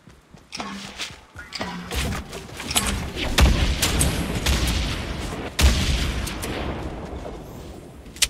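Bursts of gunfire and booming shots crack through a Fortnite match, scattered single and rapid reports at varying distances over a steady game background, with players talking in Spanish between them.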